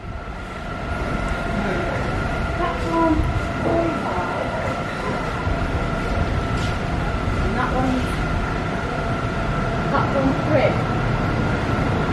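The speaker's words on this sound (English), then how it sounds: "we've got on this cross-country train" Steady rumble of a CrossCountry train running on rails in the East Midlands, heard from on board, with faint squeaks and clatter, and people talking softly underneath.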